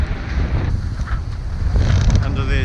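A breeze blows steadily across a sailing boat at sea in the South-West Pacific, a continuous rushing wind roar with gusty swells and faint creaks, close and fairly loud throughout.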